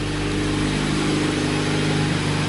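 A 2015 Subaru WRX with a Tomei exhaust, Grimmspeed J-pipe and Perrin headers idles while warming up, a steady close low engine hum with a constant pulsing exhaust drone and no revving.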